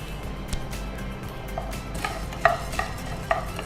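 Coriander and cumin spices fry in a pan while a spoon stirs, soft sizzling beneath sharp scraping clinks of metal against the pan at irregular intervals, close and fairly loud.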